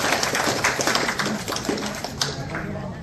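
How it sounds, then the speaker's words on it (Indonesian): A crowd claps at the 20th anniversary celebration of a rosary prayer group: dense, steady applause from many hands for about three seconds, with voices mixed into the clapping. "Mari kita semua tepuk tangan untuk KDR kita tercinta."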